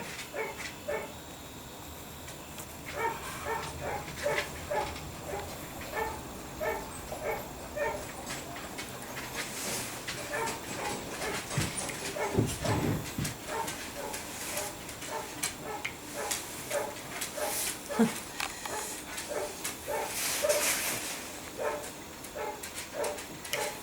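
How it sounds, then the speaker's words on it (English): A pet dog barks and yips in the background of a home while a husband arrives. The short barks come in quick runs over a steady low hum, faint and distant, with a soft clicking throughout. "You can hear my dog barking in the background."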